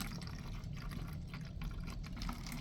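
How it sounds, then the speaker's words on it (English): Water pours steadily into a container with a soft, continuous gurgling trickle, quiet and close, with no talking. "we're going to fill our bottle about a quarter of the way up with water"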